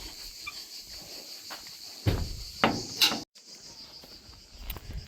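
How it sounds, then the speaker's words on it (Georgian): A door thuds and clunks shut in a few quick knocks, with crickets chirping faintly in the background. "დავკეტოთ კარი."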